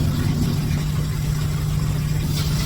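A floor cleaning machine scrubbing grease from a kitchen walkway runs steadily and loudly throughout, a constant low motor drone with broadband hiss and no pauses.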